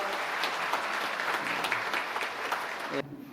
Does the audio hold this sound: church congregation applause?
yes